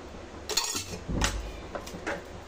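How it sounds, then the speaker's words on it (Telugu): A spoon scrapes and clinks against a pan while milk powder is stirred into a mango phirni mixture, a few distinct metallic taps and scrapes at an unsteady pace, close up, with no talking. "ఈ మిల్క్ పౌడర్ని అంతా బాగా కలుపుకోవాలి"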